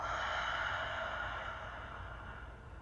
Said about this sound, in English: Big inhale together. And exhale.